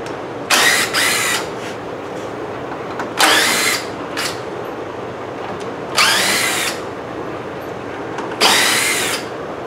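A power drill backs screws out of a blasting booth in a shop, sounding as four short, close, whirring bursts separated by quiet pauses, with no talking.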